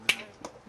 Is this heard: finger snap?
yes